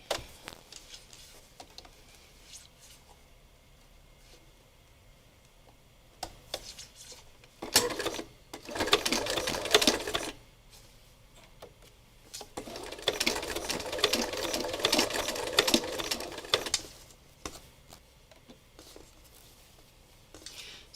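A sewing machine runs a zigzag stitch in green thread over fabric laid on top of another piece, buzzing in two sustained bursts separated by quiet pauses, close and moderately loud.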